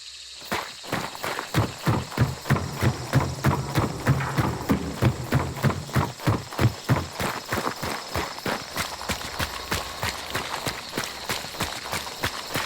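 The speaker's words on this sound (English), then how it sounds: "you're really going to notice how the footsteps and all the sound effects are much more crunchy and present" Footsteps in the video game Hunt: Showdown, played without CrySpatial audio: a steady run of crisp, crunchy steps, close and fairly loud, that slows toward the end.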